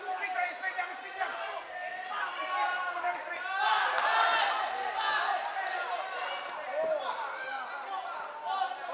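A crowd at a boxing match cheers and shouts loudly and continuously, with the noise swelling midway and then holding at a high level, and scattered voices stand out.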